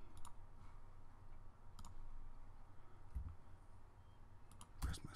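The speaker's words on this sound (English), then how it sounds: "press my spacebar" A computer keyboard is tapped while working in embroidery software, a few sharp clicks spaced a second or so apart over quiet room tone, the last press a touch louder.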